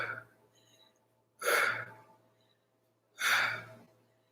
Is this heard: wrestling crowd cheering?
no